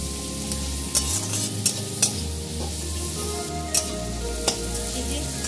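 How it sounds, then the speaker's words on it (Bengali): Egg omelette pieces being browned in a pan with salt and turmeric for an egg omelette curry: a steady sizzle under a low hum, broken by several sharp scraping clacks of a spatula stirring against the pan. "এবার আমি নুন আর হলুদ দিয়ে একটু এটাকে ব্রাউন করে ভেজে নেব।"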